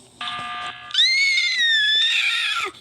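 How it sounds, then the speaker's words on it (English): A loud, shrill synthetic scream effect from a video game, rising in two sustained bursts over about three seconds with no talking. "Oh, it was screaming."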